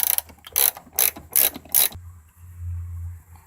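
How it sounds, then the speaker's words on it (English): A hand ratchet with a 10mm socket turns a bolt out of the rear quarter trim of a 2005–2009 Subaru Outback, four quick close clicking bursts followed by a quiet, low hum. "We can now get our 10mm socket on there and just go ahead and remove it."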